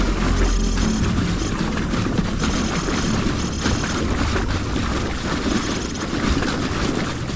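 A vehicle approaches in a Call of Duty Modern Warfare 3 mission, a steady loud engine drone with wind-like rushing noise that holds throughout, with no talking.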